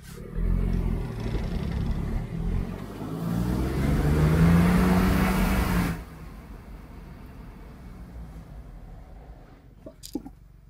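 A Smart Roadster runs loud and close for about six seconds, its engine rumbling steadily with a rising note, then drops to a quieter idle with a couple of faint clicks near the end.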